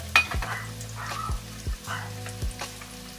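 Onion dropped into a hot pot for pork spareribs, giving a soft crackling sizzle with a few clicks and taps over a low steady hum, no voices.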